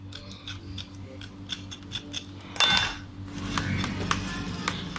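A spoon scrapes the skin off fresh ginger in a series of short, dry scratching strokes, close and fairly quiet, followed by a denser rustling stretch.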